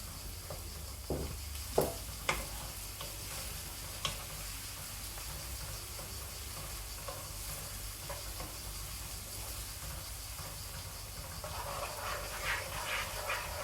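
Garlic cooking in a pan as part of a bitter gourd and potato dish, a faint steady sizzle with a few sharp clinks and stirring taps early on, the frying growing slightly louder near the end.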